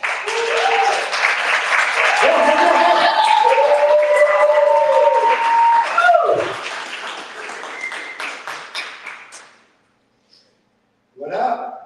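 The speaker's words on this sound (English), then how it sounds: "everyone's going to clap, but this is going to be without the music" An audience at a live comedy and apprenticeship event claps steadily for several seconds before the applause fades out and a voice begins speaking.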